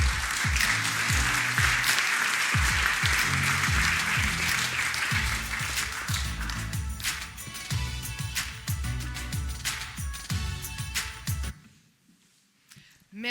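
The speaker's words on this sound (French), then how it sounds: "Je vous demande de l'applaudir bien chaleureusement, s'il vous plaît." An audience at a conference on decarbonized industry in Île-de-France applauds warmly for a speaker, a dense, loud sustained clapping that thins out and fades to near silence at the end.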